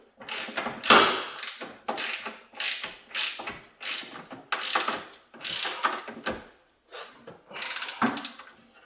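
A ratchet tightens a front fender bolt on a Sierra or Silverado pickup truck: close, loud bursts of clicking in repeated strokes with short pauses between, about ten pulls in all.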